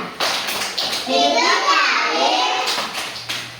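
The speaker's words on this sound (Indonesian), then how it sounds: "Tepuk ikan." Young children clapping out the rhythmic 'tepuk ikan' fish clapping game in a preschool class, a run of quick hand claps blended with children's voices.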